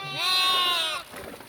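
A goat bleats once by a river in rural Cianjur, a single near, wavering cry that fades into quiet water and background sounds.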